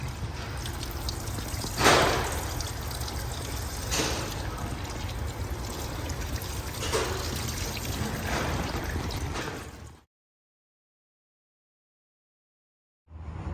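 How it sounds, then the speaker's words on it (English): Water from a hose rinsing an engine air filter from the inside out on a Shelby GT350, a steady close spray and splashing with a few louder surges, then stopping abruptly into silence. "then we're gonna go ahead and rinse it from the inside out"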